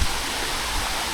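Water pours through a narrow rock gap in the Yellapur forest, a steady broadband rush that stays close and continuous with no pauses.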